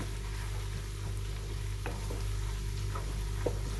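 Tomato paste with peppers, mint, cumin and black pepper sizzles and fries steadily in a pan, a continuous close hiss with a few faint stirring clicks and no talk.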